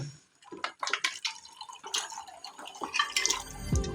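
Water being poured into a pot of tapioca and bone biryani makes splashing and gurgling liquid sounds up close, with uneven pulses and a clatter near the end.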